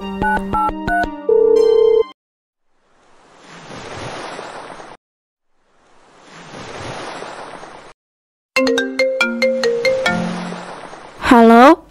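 A telephone rings for a call, with electronic ring tones at the start and end framing two long, soft wave-like swells of noise between them. Loud and close.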